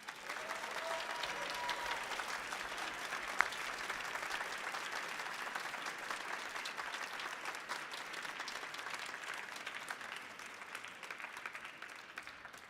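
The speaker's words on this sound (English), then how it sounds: "I think they deserve a round of applause" Audience at a TubaChristmas concert on the Millennium Stage applauding the building staff, sustained, even clapping from a large crowd that holds steady for over twelve seconds, fairly distant.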